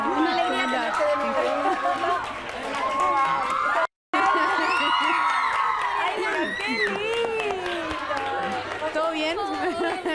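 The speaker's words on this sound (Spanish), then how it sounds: "¡Un aplauso!" Crowd at a charity gala greeting a dancer with lively cheering, whoops and excited shouts that run almost continuously, loud and close, broken by a brief dropout, while people chatter and talk over it.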